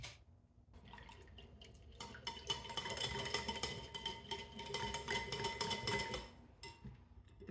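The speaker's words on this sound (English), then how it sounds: "Pour the rest of water, set it aside," Water for pumpernickel rye bread is poured out in a kitchen, a faint trickle and splash with light clinks of a container, soft and close with no talk.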